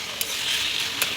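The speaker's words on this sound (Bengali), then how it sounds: "নারকেল দিয়ে ভালোভাবে আমরা শাকটা আবার ভেজে নেবো।" Taro leaves stir-fried with grated coconut in a pan, a steady soft sizzle with a few sharp scraping stirs of a spatula punctuating it at irregular moments.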